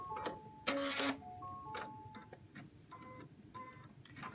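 An embroidery machine stitching a fabric block in the hoop gives faint, irregular ticking and clicking with a few brief tonal whirs and beeps, close by and without talk.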